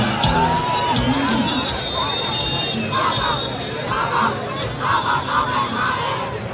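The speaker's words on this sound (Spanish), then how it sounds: "Ahí está el grito, si somos los mejores, de parte del equipo de 15 de agosto." A local football team gathered before a match shouts a chant together, loud group yelling in rhythmic bursts with crowd noise and chatter around it.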